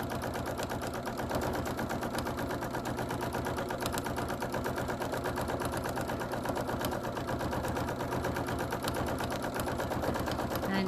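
A sewing machine runs steadily, stitching quilting lines in a background pattern with an even, continuous mechanical whir and rapid needle rhythm close by.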